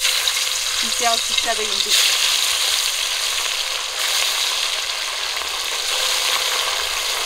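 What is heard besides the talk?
pabda fish frying in a pan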